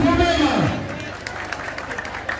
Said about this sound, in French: Applaudissez pour lui et pour vous-même.